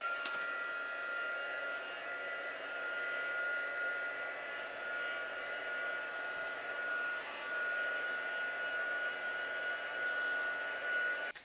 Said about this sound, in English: we are going to take our tissue background and we are going to dry it with our heating tool